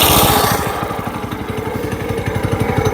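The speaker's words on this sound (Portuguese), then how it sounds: "Se você cutucar o acelerador de uma vez, acelerar muito de uma vez, cara, chega até empinar com a gente" Homemade tricycle with a 212cc engine accelerating, a loud, close, rapidly pulsing single-cylinder putter that stays strong and rises slightly as it pulls away.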